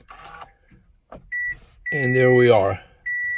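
A 2016 Toyota Camry XLE with keyless push-button start gives a short electronic beep, then a longer steady tone, with a brief voice speaking between them.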